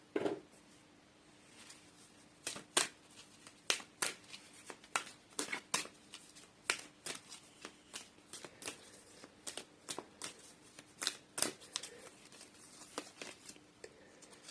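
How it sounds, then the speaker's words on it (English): Animal oracle cards being shuffled by hand, a quiet, close series of crisp riffling snaps and soft paper slaps in an uneven rhythm, with faint room tone between them. "let's pull an animal oracle card"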